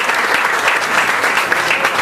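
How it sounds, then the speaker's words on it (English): Loud, dense applause from a seated audience at a study circle gathering welcoming a guest speaker, a steady unbroken wash of many hands clapping close and full for about two seconds. "I request all of you to carry with a loud applause"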